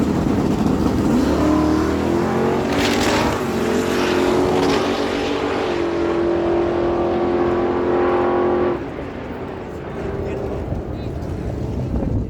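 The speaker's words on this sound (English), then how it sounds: "Nelson Lehman bringing it in left side of the track, 67 Chevy Camaro, dialed in at a 547. John Barkhouse on the right side, 83 Chevy C10" A 1967 Chevy Camaro and a 1983 Chevy C10 launch side by side in a drag race at a dragway, with loud engine roars rising in pitch. A race announcer talks over them throughout.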